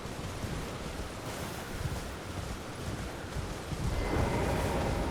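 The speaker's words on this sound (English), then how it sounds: "It's very, very windy up here." Strong wind roaring across a mountainside in the video game Elden Ring, a steady broadband rush that swells louder in the final second, with no talking.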